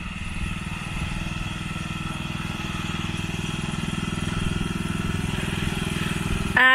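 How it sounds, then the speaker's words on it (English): A big green tractor engine runs at a steady, close mechanical putter with a regular low pulse that holds constant across the whole stretch, and it swells slightly near the end. "He's just motoring around on the tractor,"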